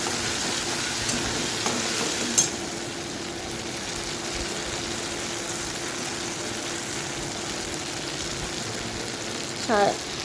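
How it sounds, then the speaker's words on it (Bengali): Poppy seed paste frying in a pan over a medium gas flame, a steady soft sizzle running throughout with a faint hum underneath and a few light stirring clinks. "পোস্তটা আমি এখন ভেজে নেবো কষিয়ে নেবো"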